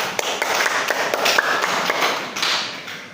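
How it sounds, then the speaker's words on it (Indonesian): A small classroom audience claps for a student group after its presentation, a scattered run of sharp hand claps at uneven intervals, fairly close and loud, with no talking. "tepuk tangan untuk kelompok 2"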